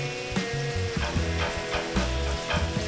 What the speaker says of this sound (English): Turkey burgers on the pan, and we're gonna cook those on medium to high heat for about 5 minutes